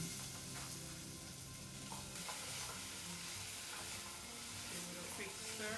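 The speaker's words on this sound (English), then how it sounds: "Hear that sizzle?" Potato cubes fry in a pan with a steady, dense sizzle that runs close and continuous for several seconds, with light stirring scrapes mixed in and no talking.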